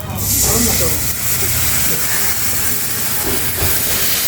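Ground chili, turmeric, salt, coriander and cumin spice mix hits hot fried onions for a Bengali rui fish curry and sizzles into a loud, steady hiss that stays close and continuous.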